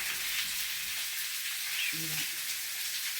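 Potatoes frying in a pan for a salad, a steady broadband sizzle and hiss running unbroken throughout, moderately close, with a brief faint clink partway through.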